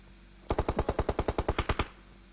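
Rapid automatic gunfire from a mobile shooter game, about thirteen evenly spaced shots in a quick burst lasting just over a second, loud and close, with no talk over it.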